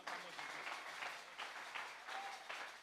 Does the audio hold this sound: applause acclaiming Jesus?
yes